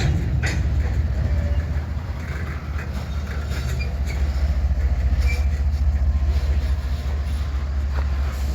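Freight train locomotive backing up through a rail yard, a steady low rumble of engine and rolling cars that holds at an even, fairly loud level throughout with faint rail clatter.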